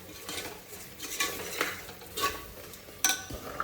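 Vegetables going into a pan of frying pulao masala, heard as a series of scraping stirs and light clinks of a utensil against the pan, with a sharper metallic knock near the end and a faint sizzle beneath, no talking.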